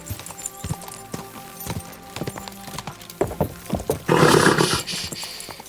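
Horse hooves clip-clop at a steady gait in the medieval game Kingdom Come: Deliverance II, close and fairly loud, ending in a louder burst of noise near the end with no talk.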